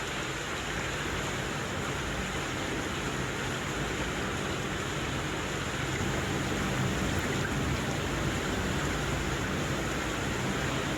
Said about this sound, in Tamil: இப்போ மழையும் அதிகமாக தான் பெஞ்சு கொண்டிருக்கு, மழை விடுறதா இல்லை.